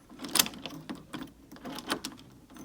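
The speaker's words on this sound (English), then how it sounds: "And the keys lock." A key turns in a locking doorknob, giving a few faint, light mechanical clicks and rattles spread across a couple of seconds in a quiet room.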